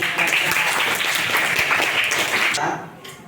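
A room of listeners at a religious talk bursts into dense, continuous applause that holds steady, then tapers off quickly near the end, leaving a brief quieter tail.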